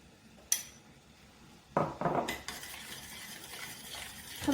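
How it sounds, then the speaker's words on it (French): Spices and seasonings such as turmeric, paprika, ginger, salt and pepper are mixed in a bowl, with a few soft clinks and scraping stirs from a utensil against the dish, faint and intermittent. "je mélange bien"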